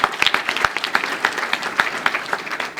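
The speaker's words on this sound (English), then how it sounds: "I think that deserves a big applause." An audience at an annual banquet bursts into applause for a volunteer award winner, crisp clapping from many hands with distinct individual claps standing out, steady and fairly close throughout.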